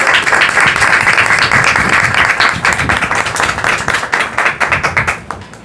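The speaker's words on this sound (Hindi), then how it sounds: "हम उसके जलाल के लिए एक बार फिर जोरदार तालियां बजाएं।" Loud applause from a church congregation during an Urdu sermon, dense clapping that stays strong for most of the stretch, then breaks into scattered individual claps as it fades out at the end.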